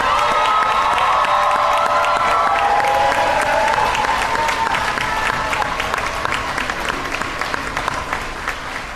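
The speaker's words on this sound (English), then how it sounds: "we recognize and applaud your parents, guardians, guests, and families" An audience at a senior recognition ceremony for a career center's pre-nursing class claps steadily and loudly for parents, guardians and families, a dense sustained wave of applause with a few cheers and voices mixed in.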